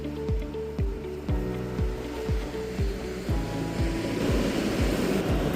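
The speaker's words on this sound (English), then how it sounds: "especially down here on the beach" Waves wash onto a beach during an electric bike ride on a HiKnight H6 Pro, a steady broad surf wash that grows louder toward the end, with regular low rhythmic thumps running beneath it and no talking.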